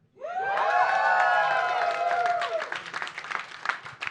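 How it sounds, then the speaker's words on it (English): A studio audience at a live comedy talk show bursts into loud applause with whoops and cheers, rising quickly and staying steady before thinning into scattered claps. "now I'm going to get a lot of applause"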